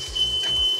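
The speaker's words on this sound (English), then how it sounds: "we know it's done because the smoke detector went off" A kitchen smoke detector going off during cooking, a thin steady high-pitched tone sounding through the short moment over faint low room rumble, with no talking.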